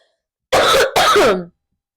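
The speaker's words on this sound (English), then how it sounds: "I'm coughing on this one" A harsh, close throat clearing followed immediately by a raspy cough, two loud back-to-back bursts lasting about a second, then silence.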